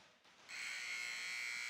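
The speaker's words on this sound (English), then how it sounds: "Buzzer is sounded" A hockey arena buzzer sounds at the end of a period in a high school boys' game, a sustained, harsh electronic tone that starts sharply and holds steady without interruption.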